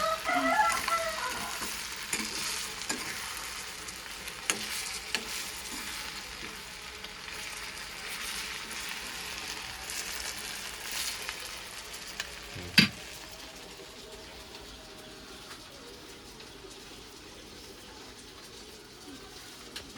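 Prawns frying in a pan, a soft steady sizzle with occasional stirring clicks, fairly faint and fading slightly toward the end, with no voices over it.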